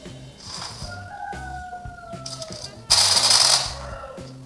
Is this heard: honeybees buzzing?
no